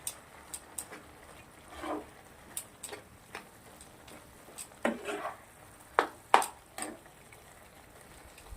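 A spoon stirs soya bhurji with green onion, garam masala and fresh coriander in a pan, making sparse, quiet clinks and scrapes over a faint sizzle.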